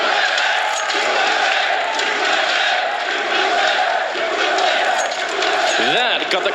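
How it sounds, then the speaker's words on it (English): A large crowd at a live Counter-Strike esports match roars and cheers continuously, loud and energetic, with voices blending into a sustained wall of noise. "That got the crowd fired up."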